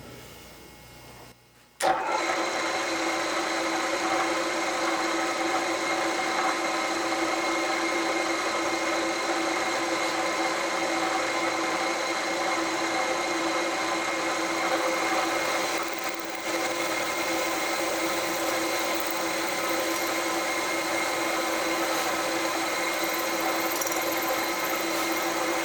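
A small milling cutter spins at about 2000 RPM, cutting an electrical cover dry: after a brief quiet moment the spindle starts abruptly into a loud, steady whine with tonal ringing that holds nearly unchanged to the end.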